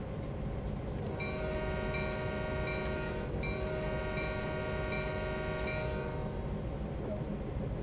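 A train rolling through in the Train Sim World game on the Oakville Subdivision, a steady heavy rumble throughout with rhythmic wheel clicks and a sustained horn tone over the middle, fairly constant and near.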